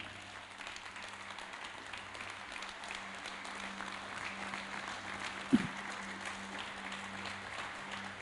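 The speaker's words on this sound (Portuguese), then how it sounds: "Uma salva de palmas para Jesus." Applause in a church service, a soft, steady patter of congregation clapping heard from a distance under a low hum, with a sharp knock midway.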